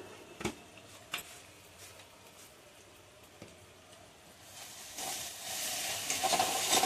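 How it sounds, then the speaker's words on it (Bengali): Spice masala fries in a pan with a faint sizzle and a few soft taps, the hissing swelling louder toward the end. "ভালো করে মশলাটা ভেজে নেবো।"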